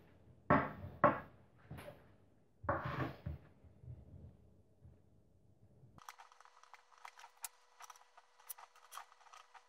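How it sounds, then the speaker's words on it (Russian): A knife cuts cheese into cubes for canapés, producing a few sharp, close thuds on a board, followed by quieter scattered taps and clicks. "Все ингредиенты нам нужно порезать кубиками. Сейчас порежем сыр."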